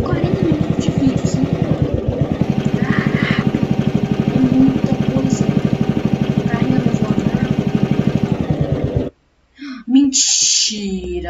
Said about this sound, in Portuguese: vamos testar o trator primeiro